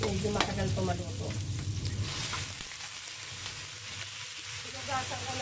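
Chicken gizzards sauté for spicy adobo with a loud, steady, close sizzle that fills the whole stretch, along with occasional scrapes and clinks of stirring.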